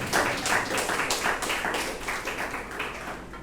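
A church congregation claps steadily in unison, a dense, loud, rhythmic applause filling the room without a break.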